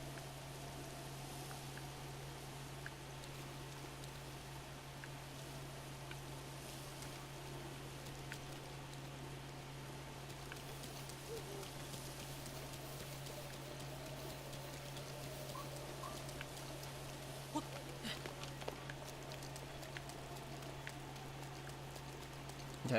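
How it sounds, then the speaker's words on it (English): Steady rainfall in the game The Legend of Zelda: Breath of the Wild, a soft continuous patter of raindrops over a low hum, with no voices. "I wish it would stop raining"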